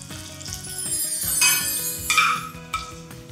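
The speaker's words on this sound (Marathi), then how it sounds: "आता ही चुरचुरीत फोडणी घालूयात चटणी।" Hot mustard seed and cumin tempering with curry leaves and dried red chillies poured onto fresh coconut chutney, a loud close hiss and crackle that flares briefly, with faint clinks of a pan.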